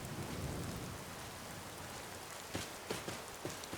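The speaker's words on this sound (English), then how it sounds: "Ugh, this rain is horrendous." Heavy rain pours steadily in a video game, a dense hiss filling the scene, with a few sharp thunder cracks and rumbles breaking through near the end; no one talks.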